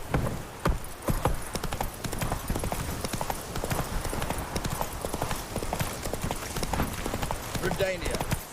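Geralt's horse Roach gallops in The Witcher 3, a continuous rapid clip-clop of hooves at close range with a brief whinny, while someone speaks over the hoofbeats.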